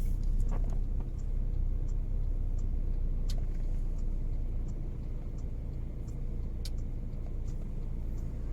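Muffled engine hum and road noise from inside a moving car, a steady low drone with a few light clicks and knocks on top.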